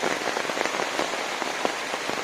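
Steady monsoon rain pours onto surfaces in coastal Karnataka, a dense, even hiss with scattered sharper drop splashes throughout, close and continuous with no voices.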